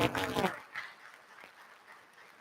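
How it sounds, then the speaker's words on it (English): Audience applause at an awards ceremony, with a fuller burst of clapping at the start that quickly thins and fades to a faint scattered patter. "Please give them a round of applause."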